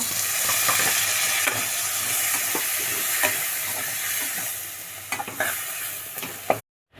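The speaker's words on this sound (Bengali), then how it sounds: "মশলাটা ভাজা ভাজা হয়ে গিয়েছে" Ground spices with chilli powder, salt and chopped tomato frying in a pan, a loud continuous sizzle with spatula stirs and scrapes scattered through, close up and without talk, ending abruptly.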